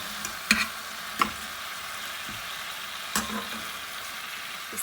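Tandoori chicken frying under a lid over a low gas flame on a home stove, a soft, steady sizzle broken by a few faint clicks and taps.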